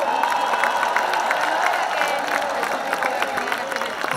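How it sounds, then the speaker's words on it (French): Festival crowd at the Nuits d'Afrique music festival in Montreal applauding and cheering for a performer, a dense, steady roar of clapping and shouts that fills the whole stretch, with an announcer's voice faintly under it. "mesdames et messieurs, qu'on applaudit encore très très fort."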